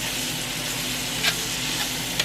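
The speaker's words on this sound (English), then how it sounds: "Let's fry us up some bananas." Bananas fry on high heat in a pan with a loud, continuous hiss, and a couple of brief sharper crackles pop out near the end.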